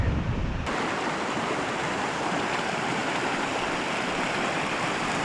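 A river below a bridge on the Quilotoa Loop hiking trail in Ecuador rushes in a steady, dense roar of flowing water, loud and continuous throughout with no voices.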